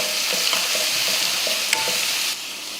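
Grated chayote being mixed into sautéed onions in a pan, a loud steady sizzle with several soft scraping stirs and a sharper clack, the hiss dropping slightly near the end.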